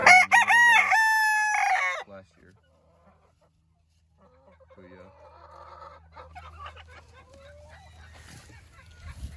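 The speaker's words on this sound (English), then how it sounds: "There's the two roosters." Two roosters in a winter backyard pen of Polish and Silkie chickens crow loudly and close by. A long cock-a-doodle-doo opens, then comes a pause, then softer clucking and faint movement.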